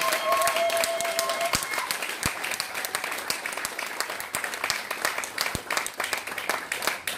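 A church congregation applauds steadily for several seconds, dense clapping with sharp individual claps standing out, while a sustained musical tone briefly runs underneath.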